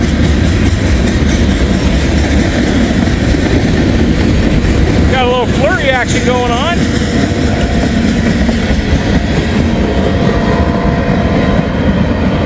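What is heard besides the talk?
CSX bulk freight train passing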